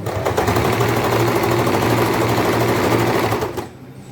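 An electric sewing machine runs fast and close as it stitches a half-inch seam in an old saree, giving a loud, even mechanical rattle that stops abruptly near the end.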